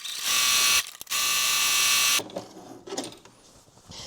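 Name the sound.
sewing machine stitching a fabric seam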